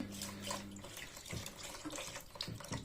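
Water is poured over a dog during a bath, splashing and trickling steadily at close range for a few seconds, with a brief low hum at the start.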